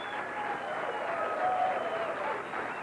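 Applause from the crowd at a 1987 professional bowling tournament championship, a soft, even wash of clapping heard at some distance with a faint tonal hum beneath it.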